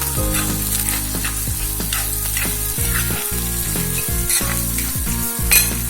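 Chopped onion frying in a pan for a mixed leafy greens dish, with a loud, dense, continuous sizzle close by and scattered clinks of stirring, with no talking over it.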